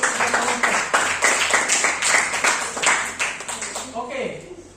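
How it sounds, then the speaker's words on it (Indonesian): Classroom applause for a student group after their presentation, a steady burst of many hands clapping that fades toward the end, with a voice briefly heard near the close. "berikan aplaus dulu untuk kelompok"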